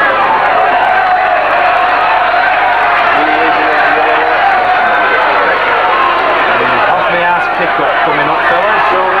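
A rugby league crowd at a 1993 Keighley Cougars versus Batley match roars and jeers in a sustained wall of noise, with a commentator talking continuously over it.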